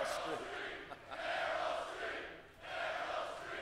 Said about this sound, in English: Crowd chanting for a highly unlikely outcome.